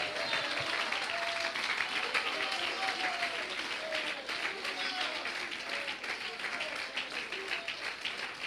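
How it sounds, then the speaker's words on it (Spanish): A church congregation gives loud, sustained applause, dense clapping that fills the room throughout with a faint murmur of voices beneath it. "Dale un aplauso fuerte."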